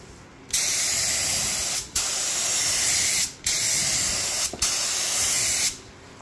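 Coating sprayed from a can onto a Toyota Sienna headlight during restoration: four long, loud, steady hissing bursts separated by brief pauses, close to the microphone.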